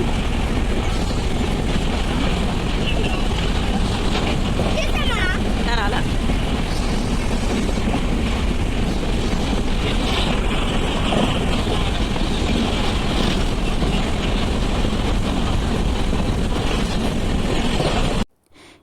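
Interior of a moving passenger train on a trip toward Gokarna, with a steady loud broadband rumble and rattle that runs continuously for about eighteen seconds before cutting off abruptly.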